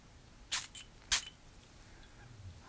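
A perfume atomizer spritzes twice, short crisp hissing bursts close to the ear in a quiet luxury boutique setting, with brief silence between and after.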